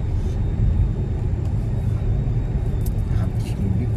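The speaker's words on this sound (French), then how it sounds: "Je m'énerve de plus en plus avec la voiture, avec le bruit là" Steady low road rumble of a car while driving, a continuous engine and tire drone filling the cabin, fairly loud and even throughout.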